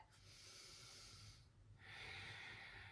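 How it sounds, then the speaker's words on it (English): Slow, deep breaths during a twisting yoga stretch: a long airy exhale, a brief pause, then a fuller inhale, close and quiet with no talking. "Breathing here."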